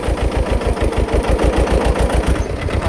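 A Mahindra mini tractor engine chugs in a steady rapid low thump while driving through deep mud, loud and close, running continuously with no voices.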